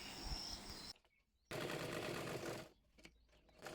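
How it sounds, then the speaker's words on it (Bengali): An electric sewing machine stitches the lower hem of a kameez, a dense mechanical whir running in two close bursts with a brief pause between and a short stop near the end. "এবার আমি নিচের সেলাইটি সেলাই করে নেব।"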